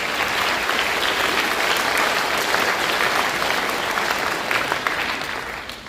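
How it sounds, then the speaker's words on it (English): Audience applause fills a school band's finale concert, a dense steady wash of many hands clapping that sustains throughout and fades slightly at the end, with no talking over it. "please give a round of applause to yourselves"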